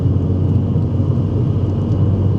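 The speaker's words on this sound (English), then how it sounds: "Flick it back on, you get a little bit of exhaust burble" Low, steady exhaust burble from a VW Scirocco R with aftermarket Miltek exhaust and valves open, a continuous rumbling drone close by with no talk over it.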